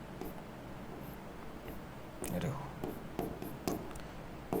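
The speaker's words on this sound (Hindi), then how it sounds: "यहां लिखता हूं" A chemistry teacher writes on a board during a lesson on corrosion, giving scattered short scratching strokes over a faint background hiss.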